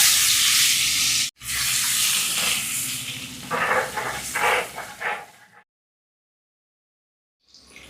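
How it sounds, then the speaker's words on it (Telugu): Pre-boiled eggs fry in hot oil with spices in a pan, giving a steady close sizzle with brief stirring bursts. A short dropout comes early, and the sizzle cuts off about halfway into silence. "ఇప్పుడు మనం ముందుగానే ఉడికించి పెట్టుకున్న ఈ గుడ్లను వేసి ఒక 3 నిమిషాలు ఫ్రై చేసుకుందాం"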